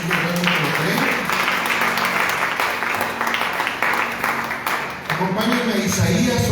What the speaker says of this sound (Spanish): Denle un fuerte aplauso a nuestro Dios, si es que realmente lo creen.